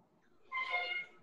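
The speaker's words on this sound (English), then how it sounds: "we're hearing kitties or something in the background" A cat gives a single short meow in the background of a video call, bright and clear but brief against an otherwise quiet line.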